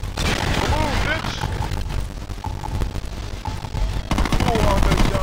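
Automatic M16A4 rifle fire from the Saints Row 2 video game rattles on steadily, with dense game sound effects and music running underneath.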